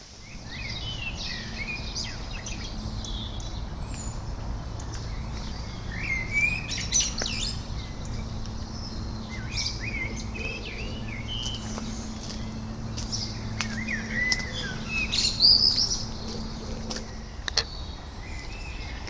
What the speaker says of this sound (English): the amount of bird song that's going on is just incredible